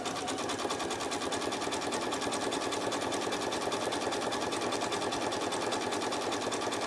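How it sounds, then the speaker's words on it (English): A sewing machine runs a zigzag stitch through scrap quilt wadding, its rapid needle chatter steady, even and close throughout. "I'm going to run through the sewing machine on a zigzag stitch, and then that'll stitch them together."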